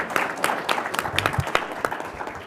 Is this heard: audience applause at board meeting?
yes